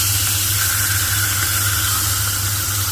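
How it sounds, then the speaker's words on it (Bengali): Fish heads frying in a pan for a potato curry, giving a steady, loud, continuous sizzle and hiss with a low hum underneath and no pauses. "এবার মাছের মাথাগুলোকে ভালো করে ভাজা হবে"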